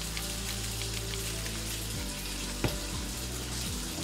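Tap water runs steadily into a kitchen sink while salmon is being prepared, a close, even rushing stream with a brief clunk partway through and no voices.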